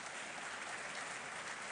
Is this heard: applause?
yes